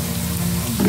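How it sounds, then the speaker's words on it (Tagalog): Garlic frying in a pan for squid adobo, a steady close sizzle that swells louder near the end. "Tutuin mo na to guys until yung garlic natin mamala"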